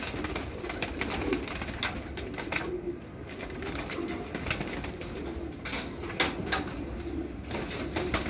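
Several orange-eyed Dab wali breed pigeons coo steadily nearby in a soft, rumbling chorus, with occasional wing flutters and light rustling.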